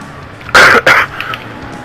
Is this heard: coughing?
yes